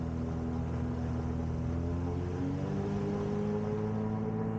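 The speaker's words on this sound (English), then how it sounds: "In comes the power, RPM building." Light aircraft engine at the runway 27 threshold, power coming in for takeoff: a steady droning hum with harmonics rising slowly in pitch as RPM builds, loud and continuous with no talk.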